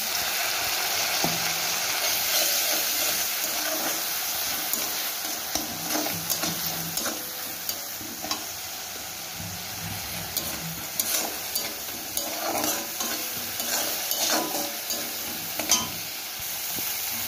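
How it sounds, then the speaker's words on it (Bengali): Chilli powder, turmeric and other spices are sautéed with a little water in a pan, giving a continuous soft sizzle and steamy hiss broken by frequent spatula scrapes and light clinks of stirring. "এবারে মশলাগুলোকে আমি একটু জল দিয়ে কষিয়ে নেব।"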